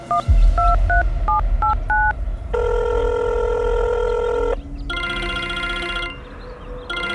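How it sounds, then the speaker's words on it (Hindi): A rapid run of mobile phone keypad tones, short beeps at varying pitches, then longer steady tones and a ringing call signal, clear and close with no voices. "उसने अपना फोन उठाया और अर्जुन को कॉल करने लगी।"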